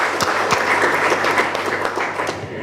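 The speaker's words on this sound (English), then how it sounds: "can we clap for him and just appreciate him for supporting us" An audience at a university international conference claps for a supporter, a steady, fairly loud patter of many hands with scattered sharper claps, continuing evenly for the whole stretch.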